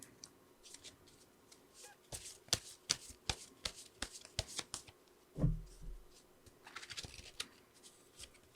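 Tarot cards shuffled by hand in a series of crisp, riffling flicks and soft slaps, close and clear, with a brief low thump midway and no talking.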